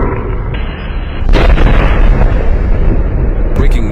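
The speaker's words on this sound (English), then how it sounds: "a massive explosion has rocked the Valero refinery" A massive explosion at the Valero oil refinery in Port Arthur, Texas: a loud, sudden blast breaks over a rumbling background, then a sustained heavy roar follows, with a second sharp burst near the end.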